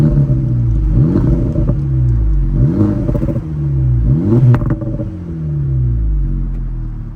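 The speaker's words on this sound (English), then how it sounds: "if I rev it out just in standing, you don't get the burbles and pops. But if I do a drive-by," A 2024 Acura Integra Type S with tri-exhaust accelerates through repeated revving pulls, engine notes rising and falling in close, loud surges with crackling burbles and pops between them.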